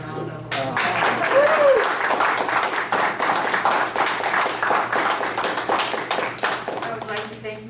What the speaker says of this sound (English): Please give Montclair Early Music another round of applause.